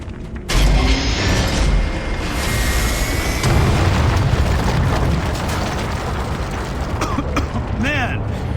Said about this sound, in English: let's give this lift a shove